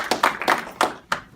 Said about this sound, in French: On applaudit Albert.